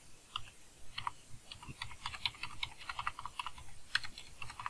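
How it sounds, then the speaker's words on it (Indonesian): Quick, steady typing on a computer keyboard, soft close key clicks in an uneven patter, quiet and alone. "Misalnya kita ketik."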